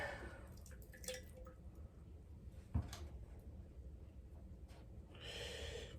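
Faint, irregular drips of water falling from an LG front-load washer drain into a container, with one sharper splash and a low background hum.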